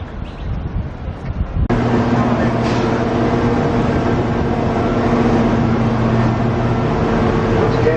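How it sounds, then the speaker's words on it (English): A Queensland mineral train passing in Townsville, a sudden steady rumble and rolling rail noise that starts partway in and holds loud and close to the end. "There comes a mineral train"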